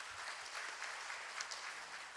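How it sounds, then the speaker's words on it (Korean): A church congregation claps in thanks after a Sunday sermon, a steady dense patter of many hands at moderate distance, fairly faint, running without a break and with no voices over it. "오늘 말씀을 전해주신 목사님께 우리 감사의 박수를 한번 하겠습니다."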